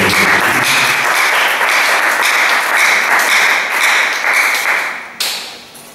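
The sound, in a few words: congregation applauding in church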